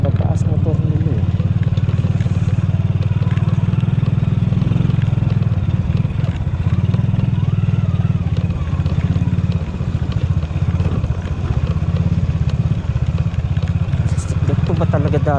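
Motorcycle engines putter and idle nearby on the Tinoc–Kiangan road toward Nueva Vizcaya, a steady low rumble while people talk over them.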